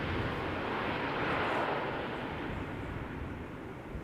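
An Air Transat A321neo airliner touches down at Schiphol Airport, giving a broad, even roar of jet engines that holds steady and fades slightly toward the end, fairly distant and with no voices.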